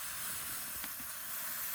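Cold butter hisses in hot dumpling broth, a continuous, fairly loud steam-like sizzle that holds steady throughout with no voices.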